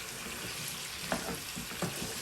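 Potatoes fry in a spice masala for aloo methi sabzi, giving a steady close sizzle throughout with a couple of faint stirring scrapes.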